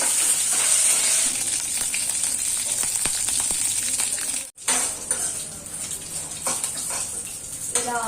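Dried red chillies and curry leaves fry in oil for a gongura pickle, a close crackling sizzle with metal clinks of utensils and a brief pause midway.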